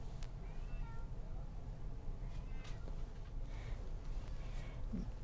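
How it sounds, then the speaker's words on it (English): A grey house cat meows quietly a few times over a low steady background hum, with no talking. "This is a cat named Gray."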